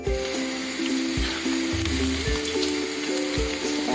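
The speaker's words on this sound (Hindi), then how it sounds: "जब तक हम अपना चिकन फ्राई कर लेते हैं" Chicken frying in a pan for honey chicken, a steady close sizzle with hissing crackle, and a background hum that shifts in pitch running underneath, without speech.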